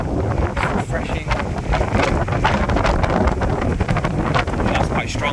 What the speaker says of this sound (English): there is a wind, there is a breeze, and it's obviously out of coast, there's going to be more wind